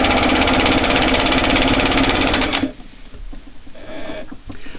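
A Singer sewing machine running a large straight stitch, a loud rapid steady mechanical whir with rhythmic needle clatter for about two and a half seconds, then stopping into faint handling clicks and small mechanical noises.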